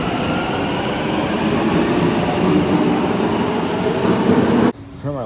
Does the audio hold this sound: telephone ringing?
no